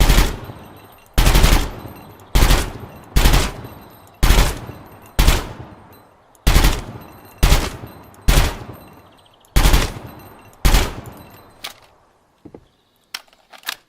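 A gun fires a magazine dump at the range in Gunsmith Simulator, about a dozen loud, sharp shots in a steady rhythm, each with a short decaying echo, then a few quieter clicks afterwards.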